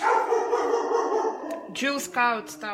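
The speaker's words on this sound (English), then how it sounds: "I'm sorry for the dogs" Dogs bark in a quick burst of several yelps in the second half, loud and close, after a stretch of quiet talk while someone paints a Christmas design on a wooden cutting board; a voice speaks over and between the barks.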